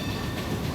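The Skunk Train, a standard gauge tourist railroad train, rumbles along with a dense, steady rolling noise of wheels on track, quiet and brief, with no voices.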